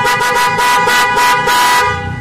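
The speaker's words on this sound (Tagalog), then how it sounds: "te-testing natin yung busina ngayon guys." An aftermarket MOCC horn fitted to a Honda Civic LX blares in several short bursts of loud, close tooting, ending with a slight fade.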